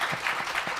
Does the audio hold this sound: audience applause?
yes